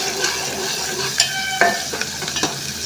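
Onions fry with salt in a pan for puri curry, a steady broadband sizzle with a few sharp scraping stirs near the end, close and continuous with no voices.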